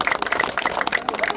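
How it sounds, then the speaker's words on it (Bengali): Audience clapping at an award ceremony in a village setting in Madaripur, a dense burst of quick hand claps close by, with crowd babble and voices mixed through the applause. "সবাই একটা জোরে হাততালি দিব।"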